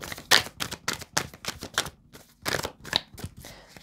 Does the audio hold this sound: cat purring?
no